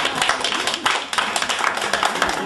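Brisk applause from an audience for CEO Esther Joseph at an event, many hands clapping steadily and close for a couple of seconds with a few voices mixed in.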